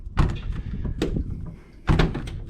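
The sticky door of a 1958 Willys Wagoneer being worked open, with a couple of loud metallic thunks and rattling jolts close by, followed by a final heavy clunk.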